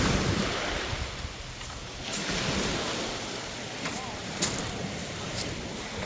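Sea waves wash against a rocky shore in a continuous rushing surf, close and fairly loud, with wind buffeting the microphone and faint voices now and then.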